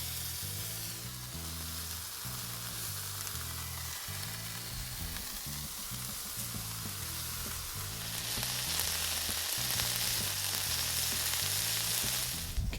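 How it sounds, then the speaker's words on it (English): Bacon and chicken kebabs glazed in bourbon sauce sizzle steadily on a barbecue, a continuous crackling fry that grows louder and brighter in the second half, over a low rhythmic background pattern. "we're going to cook it on the other side for another 1 minute, just to cook in that sauce, that bourbon sauce"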